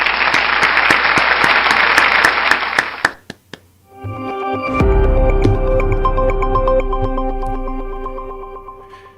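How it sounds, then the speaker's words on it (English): Audience applause for a dozen nominees at a Rotary club meeting, a dense burst of clapping for about three seconds that cuts off, followed by room noise and a sustained low hum. "Let's give them a round of applause."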